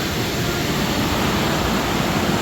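Floodwater rushes down from the Mundakkai hills in Wayanad, a dense, continuous roar of flowing water that stays loud and unbroken throughout, with no talking.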